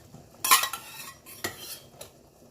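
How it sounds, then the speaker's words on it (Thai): A metal ladle scrapes and clinks against a cooking pot while scooping out pork and rice noodles for clear noodle soup, a few sharp close knocks among quieter scraping, no talk. "เราตักแบบนี้ออกมาจนหมดเลยนะคะ"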